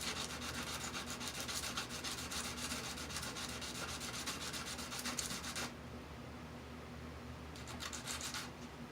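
Sandpaper rubbing a metal fuse block terminal, prepared for soldering an AC primary line fuse into a Sony ST-JX411 tuner; steady close scratchy rubbing for most of the clip, pausing near the end before a short final burst.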